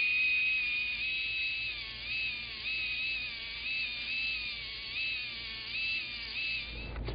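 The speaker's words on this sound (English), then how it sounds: "take a heatless stone and then bevel the rectangular wire, the inner surfaces of the wire" A heatless stone on a high-speed handpiece bevels the inner surfaces of a rectangular orthodontic wire, producing a steady, thin, high whine that wavers in pitch as it grinds, close and continuous with no talking.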